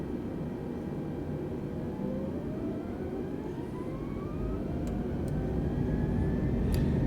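Airplane taking off at San Francisco in Microsoft Flight Simulator, a steady jet-engine roar with a rising whine that climbs in pitch and grows slightly louder, no talk.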